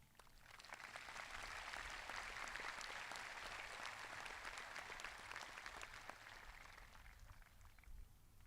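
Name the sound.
audience applause for teachers at high school graduation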